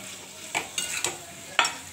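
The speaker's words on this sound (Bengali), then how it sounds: "এবার ভালো করে নাড়বো" Potatoes frying in a pan and being stirred, a low sizzle with about four quick scraping strokes of a spoon, close and fairly quiet, no one speaking.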